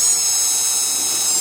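Power drill with a 9/16 bit removing a fastener on a Jandy cartridge pool filter, a steady high whine that holds loud and even through the short clip.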